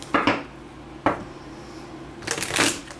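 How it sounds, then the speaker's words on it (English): Tarot cards being shuffled by hand, close and crisp, with three distinct riffling bursts separated by short pauses. "just a few more shuffles here."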